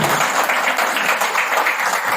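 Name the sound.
applause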